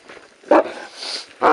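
A dog barks twice in quick, sharp bursts outdoors during a tense protest standoff, close and loud against a background of low murmur.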